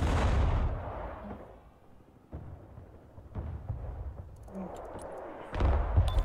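Grad rocket launcher artillery fire in the Broken Arrow war game, a loud blast that decays over a second or two, followed by quieter rumbling and further booms, with the sound swelling again at the end.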